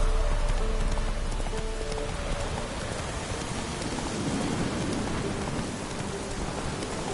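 Horse Roach galloping through heavy rain in a video game, a steady wash of rainfall with rumbling hoofbeats and distant thunder throughout.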